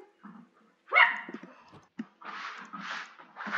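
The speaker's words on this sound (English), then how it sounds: "No barking!" A dog barks several times indoors, a sharp yelp followed by a few short, breathy barks and whimpers with brief pauses between, fairly close and moderately loud.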